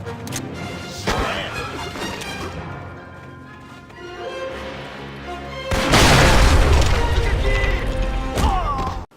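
A grenade explosion in Medal of Honor Rising Sun, a loud close blast about two-thirds through, with crashing debris rumble trailing off, following game music and sounds.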